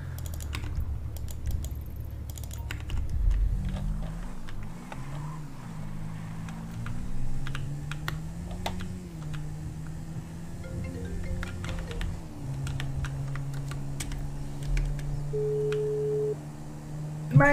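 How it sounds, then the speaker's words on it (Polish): Computer keyboard typing comes through another player's poor-quality microphone during a GTA V roleplay session, a soft rapid clatter of keys running throughout beneath a steady droning engine tone. "on ma mikrofon chujowy i słychać klawiaturę u niego."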